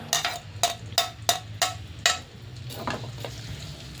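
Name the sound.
garlic frying in oil in a pan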